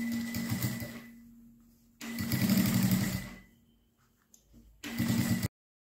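Sewing machine stitching a fabric bias binding along the edge of a handmade pouch, running in three bursts of steady whirring with short pauses between, close and clear.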